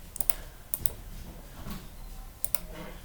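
Computer keyboard keys are typed in short, uneven clusters of close, crisp clicks with quiet gaps between them.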